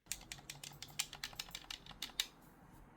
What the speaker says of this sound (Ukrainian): Гімпад від Xbox набагато шумніший.